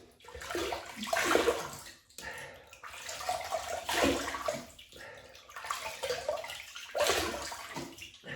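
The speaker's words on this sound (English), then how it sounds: "Right, wet the face." Water splashes as a face is wet before a shave: three or four separate bursts of close, splashy water, each a second or two long with short pauses between, and no talking.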